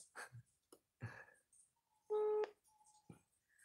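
A telephone dials a call with a handful of short, clear touch-tone beeps and one longer tone, sounding close and clean between soft clicks and handling noise.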